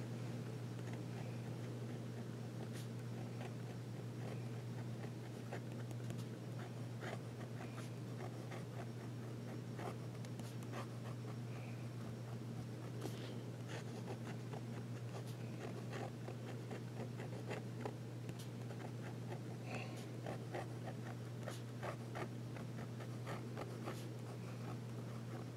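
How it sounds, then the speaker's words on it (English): A Wing Sung 601 fountain pen writing on paper with the nib reversed, a faint, steady scratchy patter of strokes over a constant low hum, with no talking. "we'll try some reverse writing."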